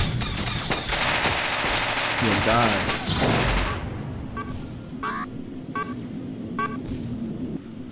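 Turret guns firing in the space shooter game Starfighter Infinity, a loud dense barrage of rapid gunfire for about four seconds, then sparser bursts and blasts over a steady engine hum.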